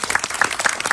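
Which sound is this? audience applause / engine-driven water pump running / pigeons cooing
audience applause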